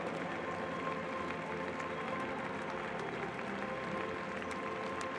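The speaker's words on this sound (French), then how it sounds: "Vous allez pouvoir redoubler d'applaudissements le vainqueur de ces talents Hermès" An audience at an outdoor show jumping event applauds continuously, a dense, even wash of clapping from a large crowd.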